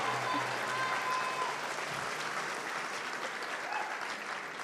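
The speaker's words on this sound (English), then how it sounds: "Let's give her a big round of applause for Holly." Steady, dense applause fills the room at a high school spring band concert, a continuous wash of many hands clapping at moderate distance and holding an even level throughout.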